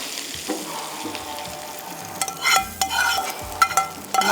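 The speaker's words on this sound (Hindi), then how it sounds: "चलें जी, अब ये जाएगा यहाँ पर तड़का दाल के ऊपर।" A tarka of butter and cumin hits a pot of dal with a loud, crackling sizzle that flares in bursts, alone and close by.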